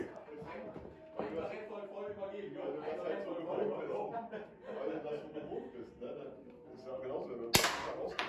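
People chat and chuckle at a shooting event where silver dollars are the targets, until a single sharp, loud gunshot cracks near the end.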